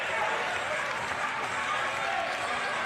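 A loud basketball crowd at a youth league grand final between Frankston and Camberwell roars steadily and densely throughout, a continuous wash of cheering with no break.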